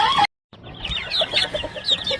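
Chickens on a Hawaiian farm cluck loudly and close by in quick, choppy bursts after a brief silent gap, with no talking.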